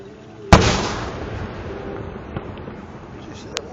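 Fireworks at the 2011 Riverfest, one loud booming burst followed by a long rumbling tail and a few fainter distant pops, heard outdoors with crowd background.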